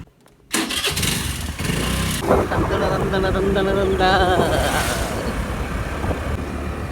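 A vehicle engine starts up abruptly and settles into a loud, steady running rumble close by, with people talking over it.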